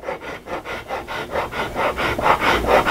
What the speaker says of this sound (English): rasp that whole area down